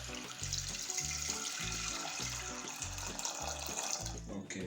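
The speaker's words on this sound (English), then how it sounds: "and to the pot guys you want to go ahead and add some water." Water pours steadily into a cooking pot that holds cloves for peanut tea, a continuous close splashing rush over a repeating low background beat, with faint talk.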